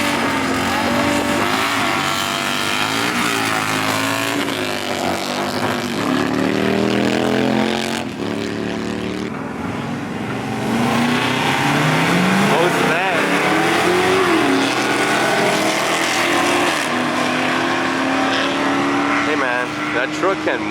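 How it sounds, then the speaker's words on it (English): A truck runs fast around a race track on a track day, its engine roaring continuously and rising and falling in pitch as it accelerates and slows, with occasional tire noise and voices over it. "That truck can move."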